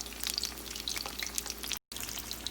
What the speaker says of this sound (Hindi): ये देखिए मैंने फ़िश को फ्राइंग पैन में डाल दिया है